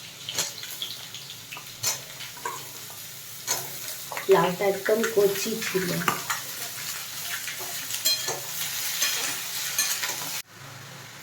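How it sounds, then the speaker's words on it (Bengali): Tender young bottle gourd frying in a pan with potatoes, cumin and dried chilli in mustard oil, giving a continuous sizzle and clattering stirring strokes, with a person speaking briefly over it before it cuts off near the end. "লাউটা ভাজা হয়ে গেছে,"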